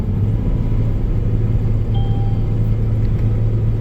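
A combine harvester's engine runs at full throttle, a steady loud low rumble that holds without pause throughout, with no voices over it.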